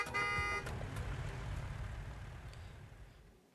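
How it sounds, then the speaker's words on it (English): Truck horn from the video game Arknights: a loud tonal blast at the start, lasting about half a second, followed by a rumbling vehicle passing and fading out. "A loud horn interrupts the conversation between the three"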